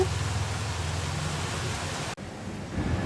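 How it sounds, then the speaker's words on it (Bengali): Rain falls outside a balcony as a soft, even wash of hiss that drops out briefly before resuming. "বৃষ্টি পড়ছে।"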